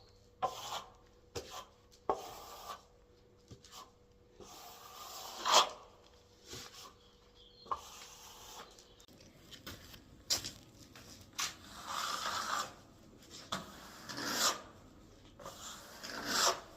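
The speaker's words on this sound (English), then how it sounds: "I'm going to very lightly start to trowel it up." A trowel works over plaster that is drying too fast on a wall, giving intermittent scraping and rubbing strokes with sharp taps, close but fairly quiet.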